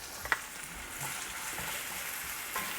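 Potatoes seasoned with salt and pepper fry in a pan, a soft, steady sizzle with a few faint clicks and stirring touches, close and quiet with no voices.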